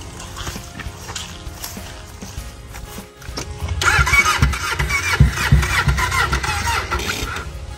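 A grasstrack motorcycle engine cranks and fires, first a rough sputtering turnover, then a loud revving, burbling run close by.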